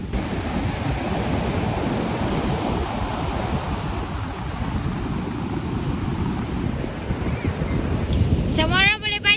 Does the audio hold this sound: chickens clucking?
no